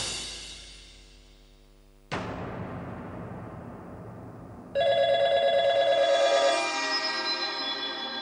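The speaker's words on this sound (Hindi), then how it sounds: "फोन बज रहा है" A telephone rings loudly with a sharp, repeating bell tone that cuts in after a fading musical note, continuing for several seconds alone.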